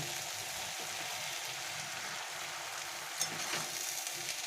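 Pumpkin greens fry in a pan with ground mustard and poppy seed paste being mixed in, giving a steady close hiss of sizzling with one brief scrape near the end.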